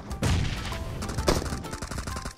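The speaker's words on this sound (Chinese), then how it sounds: "我听到枪声了" Gunfire in a PUBG-style battle royale shooter: a couple of loud sharp shots, then a lighter patter of scattered shots and impacts over a short stretch.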